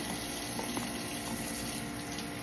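Food being washed under a running kitchen tap, a steady close stream of water splashing into a sink with no talking.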